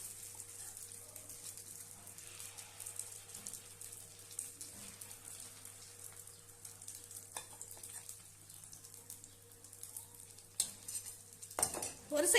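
White sorghum paniyaram batter fries in hot oil in a paniyaram pan, a faint, steady crackling sizzle with a constant low hum, a few soft clinks, and a louder clatter near the end.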